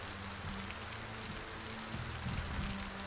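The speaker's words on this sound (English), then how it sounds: "Get a break from some of that rain noise." Steady, soft rainfall in the zombie survival game Project Zomboid, a continuous wash of drops pattering on surfaces with a faint low hum beneath, no voices.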